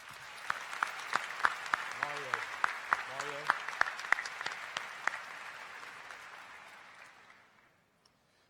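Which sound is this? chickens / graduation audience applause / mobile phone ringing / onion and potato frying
graduation audience applause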